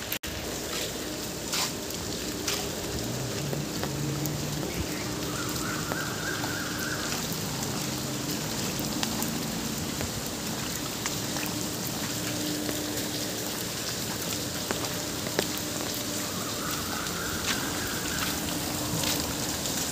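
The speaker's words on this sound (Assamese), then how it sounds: "যোৱাকালিৰ পৰা বৰষুণ দি আছে" Steady heavy rain falls during flooding in Jagiroad, a continuous dense patter on surfaces with occasional sharper drops and faint distant sounds mixed in.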